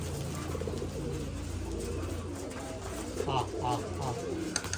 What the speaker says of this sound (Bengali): এটা ভালো কবুতর